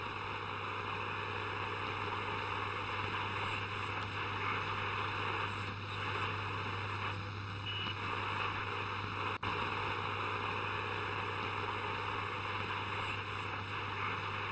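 Muffled radio static drifts through an attic in the video game Ira, a steady, even wash of hiss with a low constant hum beneath, unbroken for the whole stretch apart from one tiny click, and no voice.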